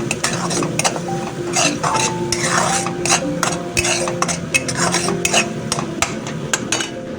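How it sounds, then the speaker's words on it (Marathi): Spices and onion sautéing in oil in a pan, with a busy run of spatula scrapes and metallic clinks against the pan over a soft, steady sizzle, close and fairly loud. "सो मस्त असं त्याला आपण परतून घेऊयात तेलामध्ये"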